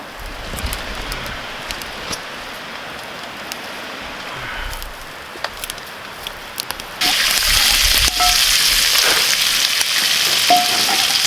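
Bacon fries in a pan over a campfire at a bushcraft camp, giving a steady crackling sizzle that jumps suddenly louder and brighter partway through and then holds at that level.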